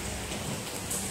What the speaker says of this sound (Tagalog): suungin natin yung lakas ng ulan